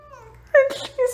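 A cat meowing angrily at an automated feeder, two or three drawn-out, wailing meows, loud and close, the later ones rising in pitch, with no talk.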